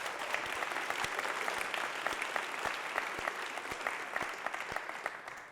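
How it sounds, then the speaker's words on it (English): Sustained applause from a sizable crowd at a college convocation, dense steady clapping throughout that thins slightly toward the end. "Let's give them a round of applause."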